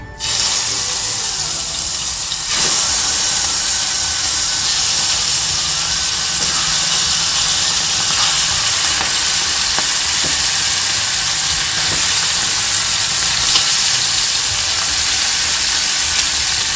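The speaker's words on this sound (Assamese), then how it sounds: "এতিয়া কেৰাহীত তেল গৰম হৈ গ'ল পিঁয়াজকেইটা দি দিওঁ" Sliced onions dropped into hot oil in a wok, a loud, steady frying hiss that bursts in at the start and continues unbroken to the end, with no voices.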